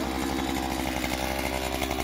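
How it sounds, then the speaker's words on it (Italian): A petrol brush cutter fires up and runs at a steady, loud buzzing whine, close by, used for clearing irrigation channels, with no voices over it. "E vediamo la partenza del decespugliatore."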